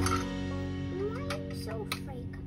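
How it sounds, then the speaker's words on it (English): Stray cats perched up high in Dubrovnik, Croatia, meow a few times over a steady outdoor murmur. "there's at least two cats up there that I can see"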